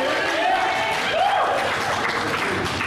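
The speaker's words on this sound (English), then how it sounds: "Cheered for Woody." Audience at a university First Amendment Day keynote breaking into steady applause and cheers for a colleague, a dense wash of clapping filling the room with a few whoops on top.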